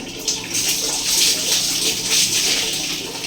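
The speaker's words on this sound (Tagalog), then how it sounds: "babanawan ko muna yung hair ko" A steady rush of water pouring over hair and splashing close by, continuous for a few seconds with slight swells in volume.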